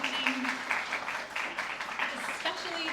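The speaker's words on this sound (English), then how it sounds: "Can we give them all a round of applause" Audience applause at a creative writing prize showcase, a steady wash of clapping from a crowd that sustains evenly for about three seconds at moderate volume.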